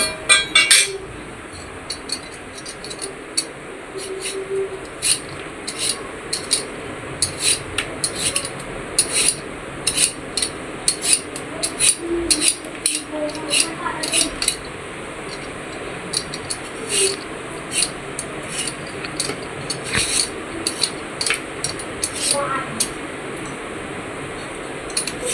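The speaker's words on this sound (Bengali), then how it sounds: "এইভাবে আলু ছিলে নিব" Potatoes for French fries being peeled with a handheld peeling machine, making repeated scraping, rasping strokes in irregular bursts with faint clinks, close by and steady throughout.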